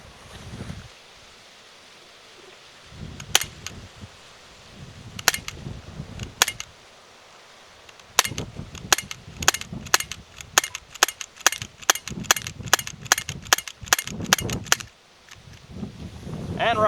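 BB and pellet pistols firing at pumpkins outdoors: a few isolated sharp cracks at first, then a rapid run of evenly spaced snappy shots, fairly close and crisp over a low background rumble.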